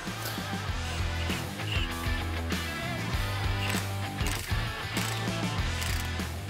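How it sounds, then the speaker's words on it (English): Rapid clicking of a ratchet running an axle nut in on a Ford Bronco during a lift kit install, bursts of close, crisp pawl ticks repeating in short strokes with brief pauses. "Gonna run our nut in some more."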